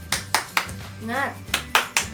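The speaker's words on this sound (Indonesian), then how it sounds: "Tepuk semangat" A class of standing schoolchildren performs a rhythmic spirit clap led by their teacher, with sharp, evenly spaced claps broken by a short sung or chanted call in the middle.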